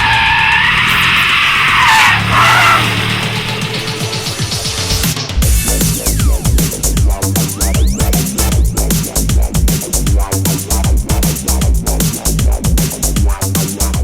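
A Porsche Cayenne slides sideways on the track at the Porsche factory in Leipzig, tires squealing loudly at first, then the engine roars and revs hard in pulsing bursts as the drift continues.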